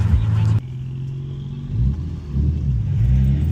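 A four-cylinder Ford Mustang revs nearby on a city street, its engine swelling and falling in a few rising bursts over the steady rumble of a car interior, with a voice partly over it.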